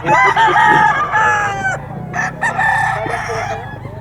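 A Kelso gamefowl rooster at a fowl market in Bocaue lets out a loud, close crow, followed by shorter crowing bursts and clucks from nearby birds.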